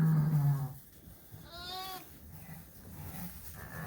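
Sheep and lambs bleating in a lambing barn on a cold morning, a loud close bleat at the start and a quavering bleat midway, over a busy barn background with further faint calls.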